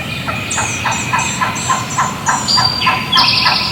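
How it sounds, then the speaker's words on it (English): A nearby wild turkey hen in a tree gives a run of loud, rhythmic yelps, repeated steadily over a faint outdoor hiss. "an old hen sounded off in a tree not 60 yards from where I was standing"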